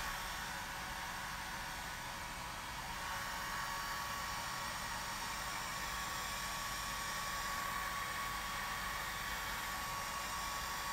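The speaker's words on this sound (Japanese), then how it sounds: "皆さんドライヤーしてるので音量注意してください。" A hair dryer blowing on cool mode, a steady, loud broadband whoosh with a faint whine, running continuously and unchanging throughout with no speech.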